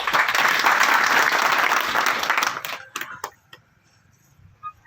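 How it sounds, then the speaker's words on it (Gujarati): An audience at a community gathering claps loudly and densely, then the applause thins out into a few scattered last claps and quiet before a final stray clap. "એ સહયોગને આપણે વારંવાર વંદન કરીને તાળીઓથી વધાવી લઈએ"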